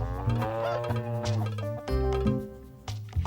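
A cow moos in several drawn-out, loud calls close by, the lowing rising and falling in pitch with brief pauses between.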